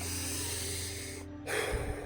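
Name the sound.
breathing in through the nose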